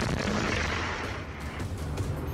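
A heavy explosion rumbles at an oil depot struck by S-8 rockets, a dense, roaring blast noise filling the short stretch with no clear break, heard from a distance and moderately loud.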